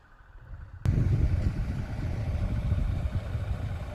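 A farm tractor working in a field, its engine starting abruptly and then running as a steady, loud, rumbling clatter close by.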